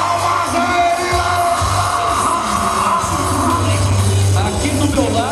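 Rodeo crowd at a final competition round cheering and whooping, a loud continuous roar of voices with shouts over a booming background.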